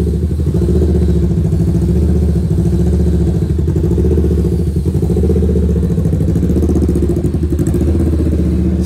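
Kawasaki Ninja 650 motorcycle with aftermarket exhaust fitted with two functional mufflers and a resonator, running loud and close with a steady throbbing idle and low engine rumble, no talk.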